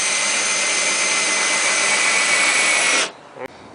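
Power tool whirring steadily at full speed while driving a screw into an entertainment center during assembly, then stopping abruptly, followed by a brief click.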